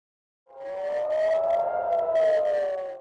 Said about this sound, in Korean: 요란한 공습 사이렌이 울리고